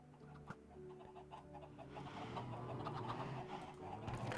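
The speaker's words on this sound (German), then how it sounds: "Was macht eigentlich meine Hühnerfarm?" Chickens on a Minecraft chicken farm cluck in soft, scattered bursts against a steady low hum of game ambience, faint and fairly distant, with no talking.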